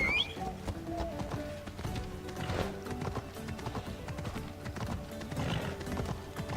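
Quick, rhythmic hoofbeats of a galloping horse in Assassin's Creed Odyssey clatter along steadily, with a brief whinny near the start.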